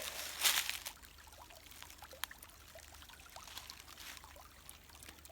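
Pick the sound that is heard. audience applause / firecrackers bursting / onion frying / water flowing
water flowing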